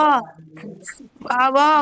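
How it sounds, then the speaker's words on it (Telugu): A dog whimpers in short, high, whiny cries close by, with a brief quiet gap between two bursts of whining. "కుక్క అంటుకుంటుంది బాబో."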